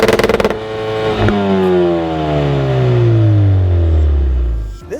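A 2017 Ford Focus RS engine revs hard after a rattling start, the pitch sweeping downward through a long rev-down, loud and close with a sharp pop partway through and another blip at the end.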